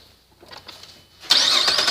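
A 2012 Chevrolet Impala with about 180,000 miles and a leaking exhaust flex pipe starts up, with quiet cranking followed by the engine catching and settling into a loud, close idle.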